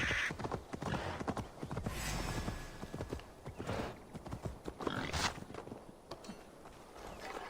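Horse hooves clip-clop steadily in Assassin's Creed Valhalla, a brisk run of close, hollow strikes with a brief whinny near the start and no talking.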